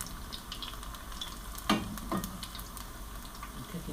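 Gluten-free pakoras fry in hot oil with a steady, close sizzle, and a couple of brief clinks or stirring knocks sound partway through.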